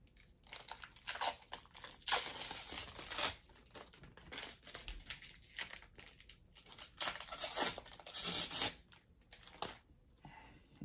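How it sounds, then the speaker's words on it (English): Plastic packaging crinkling and tearing as an LG smart TV replacement remote is taken out, close-up bursts of rustling and crackling with brief pauses between them. "Take it out of the packaging."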